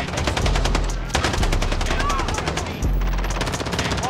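An MP5 submachine gun fires fast, dense automatic bursts in a shooter video game, loud and close with very brief pauses between strings of shots.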